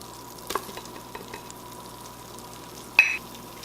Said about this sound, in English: Now we're making a roux. We want to keep on stirring this.